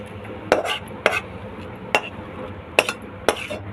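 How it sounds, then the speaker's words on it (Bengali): Dried vegetable chop filling is tipped off a pan onto a metal plate, giving about five sharp, separate clinks and scrapes, close and moderately loud, with a low background hum and no talking. "একটা থালায় নাবিয়ে নিচ্ছি।"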